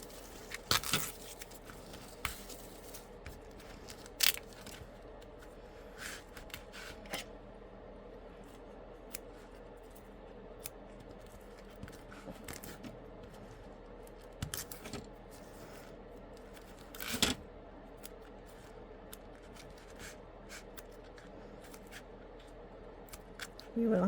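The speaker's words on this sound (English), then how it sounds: "You will have some threads to cut because that placement step's on the stabilizer" Scissors snipping loose embroidery threads from stabilizer, with sparse, quiet, close clicks and snips spread irregularly across long near-silent stretches.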